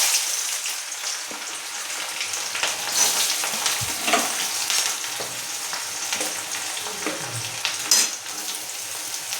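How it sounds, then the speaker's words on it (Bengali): Chopped onions go into hot oil in a home kitchen, crackling and sizzling loudly up close, with occasional stirring clatter and bursts of spitting oil. "কেটে রাখা পেঁয়াজগুলো দিয়ে দেবো।"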